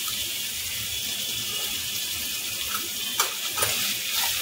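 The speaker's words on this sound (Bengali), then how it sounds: "ভালো করে মশলাটাকে আমি ভেজে নেব।" A spice mix of red chili powder and salt fries in a pan for a jackfruit dish, making a steady hiss with a few sharper crackles and stirring scrapes toward the end.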